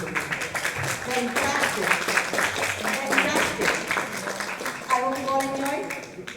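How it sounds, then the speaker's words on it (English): Audience applause for participants in an intra-school quiz competition, a steady patter of many hands under a host speaking throughout. "I will give a huge round of applause to you."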